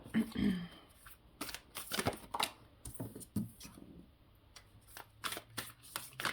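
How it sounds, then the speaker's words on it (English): A large tarot card deck being shuffled by hand, bursts of card riffling and papery slaps in irregular bunches, close up, with a voice talking at times. "God, this deck is massive. I really struggle to shuffle it like normal cards. I have to shuffle it upwards."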